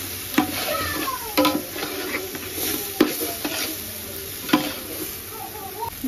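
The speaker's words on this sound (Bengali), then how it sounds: "এবার দিয়ে গোটা গরম মশলা, এবার ভালো করে একটু নাড়াচাড়া করে নেবো আমি।" Whole garam masala frying in a pan, a steady soft sizzle broken by repeated sharp scrapes and clinks of a stirring utensil against the pan, close by and moderately quiet, with a faint cat-like sound in the background.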